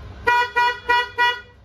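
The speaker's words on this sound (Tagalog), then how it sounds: "testingin natin guys itong luma nating busina" An old car horn is tested with four short, evenly spaced honks. The tone is loud, close and slightly nasal, with brief silences between the blasts.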